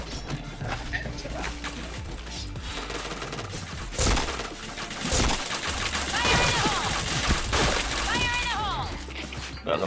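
Gunfire crackles in bursts in a first-person shooter game, mixed with game music and effects. A player talks over it.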